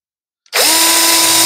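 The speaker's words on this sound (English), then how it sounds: "I'll take my drill and I will drill a hole" A power drill bores a hole into a cheese board, whining up sharply after a brief silence and holding a steady, loud, close high-pitched drone to the end.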